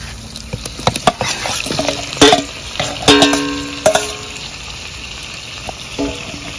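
Chicken and potato pieces dropped into a spicy masala in a pan for a mango chicken curry, sizzling and crackling with irregular sharp pops and bursts of frying noise, close and fairly loud.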